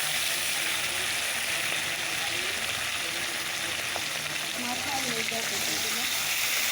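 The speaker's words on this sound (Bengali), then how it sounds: "চলো মাছগুলো এবার ভেজে নেই" Small puti fish frying in hot oil, making a loud, dense, continuous crackling sizzle close up, with a faint voice briefly audible underneath.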